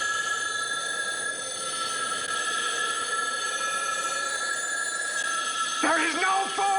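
An old-style telephone bell rings in a scene from the 1971 film The Omega Man, a steady, sustained metallic ringing with a brief sharper burst near the end, mixed with background sound and no clear speech.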